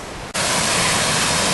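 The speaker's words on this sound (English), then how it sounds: "Another waterfall here" A waterfall on a country hill walk at Grey Mare's Tail near Moffat, Scotland, cutting in as a loud, close, unbroken roar of falling water that fills the whole moment.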